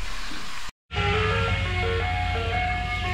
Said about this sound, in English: Ice cream truck, Benny.